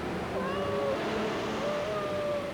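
A small stray kitten trapped in a drain mews in two drawn-out, wavering cries, faint and slightly hollow, over a steady low background rumble.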